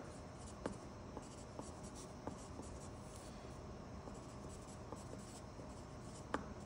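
Pen or pencil writing on paper while figures are filled in on a cut list, a faint steady scratch with a few light taps, close and quiet, alone with no voices.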